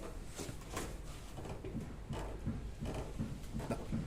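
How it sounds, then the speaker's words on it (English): Knocking from a worn Watts link on a Land Rover Discovery 2 while the car is rocked: several dull clunks at an uneven rhythm, fairly quiet beneath steady background noise. "That knock there, that's a telltale sign that your watts link's gone"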